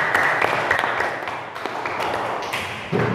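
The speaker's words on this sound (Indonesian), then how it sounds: "beri tepuk tangan untuk Mbak Irma" Classroom applause for a student presenter, a steady patter of claps from a small group running continuously for a few seconds, close and moderately loud.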